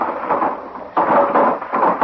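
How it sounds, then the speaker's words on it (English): A thunderclap sound effect from an old-time Western radio drama: a loud, rolling rumble that surges sharply again midway and keeps booming to the end, with no voices over it. "That thunderclap jarred it loose."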